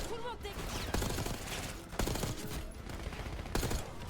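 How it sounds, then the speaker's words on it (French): Sustained gunfire exchange from Call of Duty: Black Ops 6 in a busy local market alley, with dense overlapping shots and several sharper bursts standing out over a continuous noisy battle mix. "un échange de tirs a éclaté."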